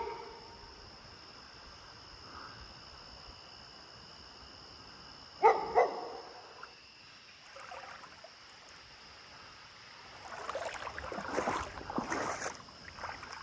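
A dog at a covered bridge in Thetford, Vermont gives two sharp barks, fairly close. Steady stream water and insect hum run underneath, and a rougher burst of noise follows later.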